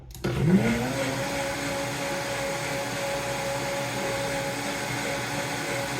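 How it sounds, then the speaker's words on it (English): A blender spins up sharply and then holds a loud, steady whirring roar at full speed for several seconds. "So let's run this blender at full speed."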